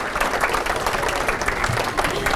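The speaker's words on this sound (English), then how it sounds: "Could everybody please join me for a round of applause for Frank Gagliano." Banquet guests at the 21st Ward Athletic Association Hall of Fame dinner give a round of applause for Frank Gagliano, many hands clapping loudly and close by.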